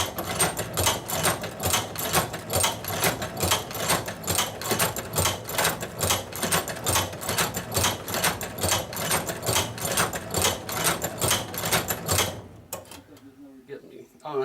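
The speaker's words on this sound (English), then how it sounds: "the machine will continue sewing" A leather sewing machine stitches down the length of a strap with rapid, evenly spaced mechanical clacks, close and steady for about twelve seconds before stopping abruptly.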